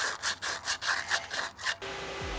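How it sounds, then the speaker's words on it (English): Rhythmic back-and-forth scraping of sandpaper or emery cloth cleaning up drilled holes in steel near welds, about eight close strokes, then a steady hum. "we're just gonna clean up these holes with some sandpaper"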